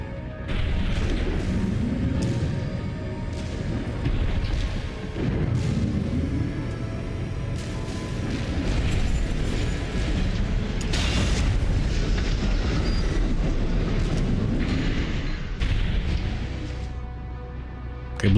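Weapons blowing up in Armored Core 6: a long run of heavy booming blasts and crashing impacts over a continuous rumbling mechanical roar, loud and close, with no talking.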